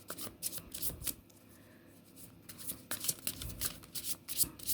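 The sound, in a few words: tarot cards being cut and shuffled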